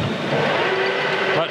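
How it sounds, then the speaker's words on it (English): A metal lathe, set in high gear, starts up and runs with a steady mechanical whine and hum that rises to a continuous tone. A voice speaks over it. "So let's fire the lathe up"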